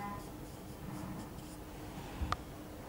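Marker or chalk scratches and taps across a board during a chemistry class lecture, a soft, close series of small strokes ending in a sharper tap.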